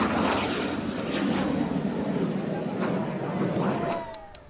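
Five L-39 Albatros jet trainers fly in formation at an air show marking 100 years of the Russian Air Force. Their engines produce a loud, sustained roar that fades toward the end.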